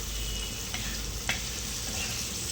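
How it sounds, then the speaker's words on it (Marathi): Green chilies and a few peanuts roast on a hot griddle, giving a steady soft sizzle with occasional faint pops and scrapes, close up, with no voices. "हिरवी मिरची भाजत जरी असेल तरी त्यात थोडंसं शेंगदाणा पण ॲड केला आहे"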